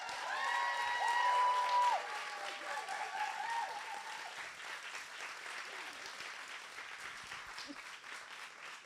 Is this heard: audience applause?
yes